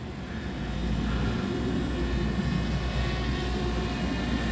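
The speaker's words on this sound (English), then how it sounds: "Let's bring the drone forward." A DJI Mavic Mini drone in flight produces a steady, fairly loud buzzing whine that holds constant throughout, with no voices.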